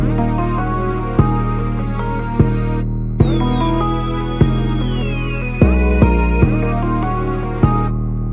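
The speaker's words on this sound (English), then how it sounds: "we have the 808, which is a banging 808" A distorted, soft-clipped 808 bass thumps in an FL Studio trap beat, deep sustained hits pulsing about every second under a looping high synth melody, with no voices.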